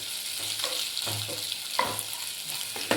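Onion pieces frying in ghee in a pan for vegetable masala rice: a continuous close sizzle with a few light stirring knocks, no voices.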